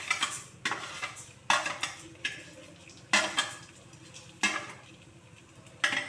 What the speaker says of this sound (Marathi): आता मी यामध्ये टाकते आहे उडदाची डाळ